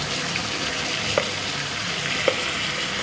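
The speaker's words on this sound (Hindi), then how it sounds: "अब मैंने मसाले डाल के ये मैं भूनने दूंगी" Spices with Kashmiri red chili fry in hot oil for shahi dum aloo, giving a steady, close sizzle with a couple of faint clinks from stirring.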